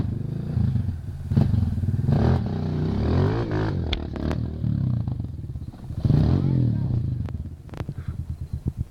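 A trail motorcycle engine runs close by, idling and revving in uneven bursts, with clattering and knocks mixed in and occasional voices.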